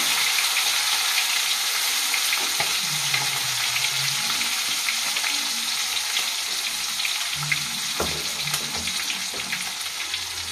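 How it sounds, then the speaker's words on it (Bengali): Whole cumin, chopped green chilli and asafoetida sizzling in hot tempering oil, a bright continuous frying crackle with occasional stirring clinks and faint low rumbles, close and steady. "গোটা জিরে দিয়ে দেবো ফোড়নে, কাঁচা লঙ্কা কুচি দিয়ে দেবো, হিং দিয়ে দেবো"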